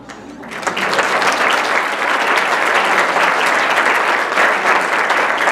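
An audience gives sustained, dense applause in honor of the founder of CUSEA at a public debate on the 1917 Constituent Congress. After a brief quieter start, the clapping swells quickly and stays loud and steady throughout.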